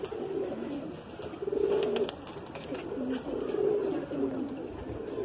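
High-flying pigeons in Jodhpur, Rajasthan, give soft, repeated cooing calls against outdoor background noise, moderately close, with faint voices around.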